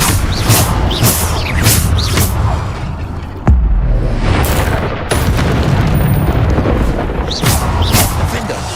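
Bombarda spell explosions in Hogwarts Legacy: a rapid series of loud, booming blasts and crashes mixed with other spell effects, several sharp impacts in quick succession amid constant combat noise.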